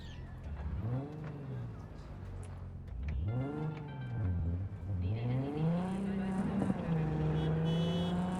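A car being driven in Cyberpunk, its engine note rising and falling with repeated revs and gear changes, steady and close throughout, with someone talking over it.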